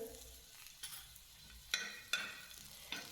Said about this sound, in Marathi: आणि लसूण पण आहे ना हलकासा गुलाबी रंगावर तळून घेते छानपैकी.